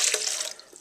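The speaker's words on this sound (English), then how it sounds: "So I'm adding more like 2/3 to almost a cup of coconut water." Coconut water pours steadily into a blender in a home kitchen, a bright splashing trickle close to the microphone that tapers off after about half a second.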